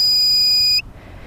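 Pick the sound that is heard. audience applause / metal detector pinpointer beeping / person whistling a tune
metal detector pinpointer beeping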